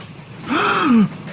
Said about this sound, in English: Suddenly, a horrified gasp escaped his lips.